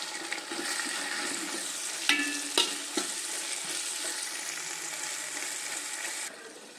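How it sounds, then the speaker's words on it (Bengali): Whole cloves, cardamom and cinnamon sizzling in hot oil, a bright continuous hiss with a few sharp clinks of a utensil early on, close and steady before stopping abruptly. "সে মশলাগুলো আমি এর মধ্যে দিয়ে দিচ্ছি। দিয়ে আমি কয়েক সেকেন্ডের জন্য সুন্দর করে একটু ভেজে নেব।"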